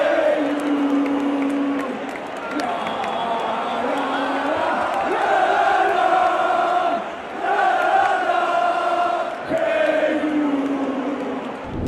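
Real Madrid fans at the Santiago Bernabéu stadium chant Jude Bellingham's name in a massive, sustained sung roar, rising and falling in repeated phrases with brief dips between them.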